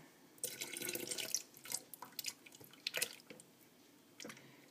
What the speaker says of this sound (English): Now we just mix our vinegar with our filtered water